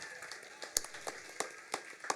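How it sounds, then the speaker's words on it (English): A small audience at a Noongar lullaby launch performance gives Sandy a round of applause, heard as a quiet scattering of separate, sharp claps rather than a full ovation. "Can you give a round of applause for Sandy?"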